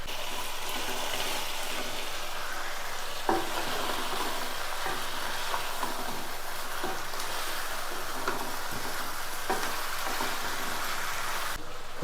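Biryani masala with yogurt, coriander and mint sizzles in a pan under steady stirring, a continuous close frying hiss broken by occasional soft scrapes and knocks of the spoon.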